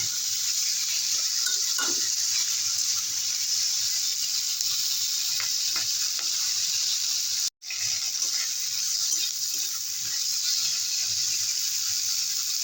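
Fish curry with spring onions sautéing in a pan gives a steady broad sizzle with scattered stirring clicks and a short break partway through.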